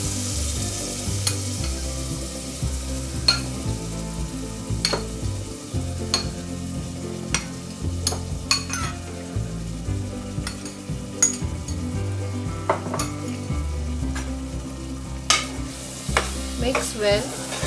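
Pressure-cooked chickpeas stirred into a sizzling masala paste for chole, with a continuous sizzle, repeated spoon clacks against the pan and a thick, wet stirring texture, loud and close.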